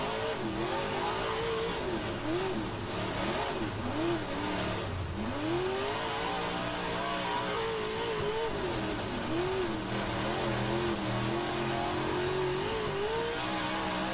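Stock cars racing in the rFactor 2 simulator, one near engine revving up and down through gear changes while other cars run alongside, a loud continuous roar with rising and falling pitch.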